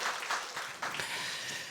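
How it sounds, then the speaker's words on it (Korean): Church congregation at a Korean revival service clapping together, a dense, even burst of applause from many hands, fairly quiet and short. "우리 박수 하나님께 영광 올려드리겠습니다"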